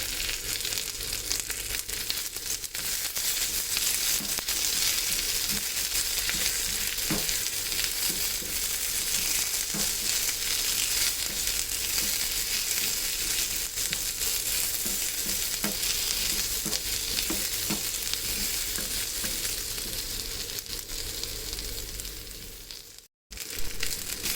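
Small shallots and three cloves of big garlic sauté in a pan for keerai kadayal, giving a steady, loud sizzle throughout, broken by occasional stirring scrapes, with no talking.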